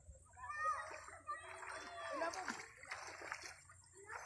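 Children swimming in the sea, water splashing and sloshing in bursts near at hand, with voices talking over the splashes.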